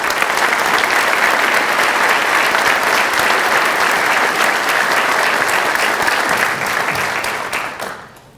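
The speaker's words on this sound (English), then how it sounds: "please give her a loud round of applause for Kelly Schock" A large audience applauds loudly and steadily for a third place winner at an Ivy Day ceremony, a dense wash of clapping that holds for about seven seconds before fading away.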